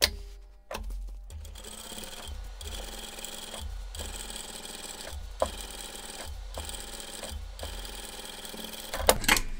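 A sewing machine topstitches a velvet pouch flat near the edge, running in a steady stream of rapid stitching with short stops and small clicks, close up and with no speech.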